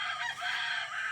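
Brooding hens cluck steadily on a backyard poultry farm, a dense, continuous murmur of fowl sounds held close throughout with no talk over it.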